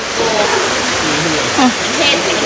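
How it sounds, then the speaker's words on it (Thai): Water splashing and gushing steadily at a temple in Thailand, a broad rushing wash with a brief louder splash midway, while voices talk over it. "น้ำตีกระจายเลย"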